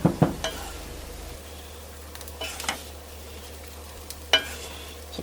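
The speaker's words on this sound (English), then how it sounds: "I just scramble them right there in the pan." Eggs scrambled in a cast iron pan sizzle softly while a utensil scrapes and knocks against the iron in a few sharp, scattered strokes, close and otherwise quiet.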